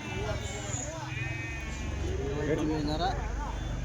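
Sheep and rams at a weekly livestock market in Kadiri: repeated bleats, some near and some farther off, over a constant crowd murmur and people talking.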